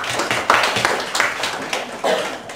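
A small group clapping after a media project pitch presentation at a college, a short sparse burst of uneven hand claps, close and fairly loud.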